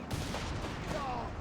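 Vickers machine gun fire in the video game Company of Heroes 3 forms a dense, continuous wash of battle noise, with steady gunfire blending into the broader combat din at moderate level.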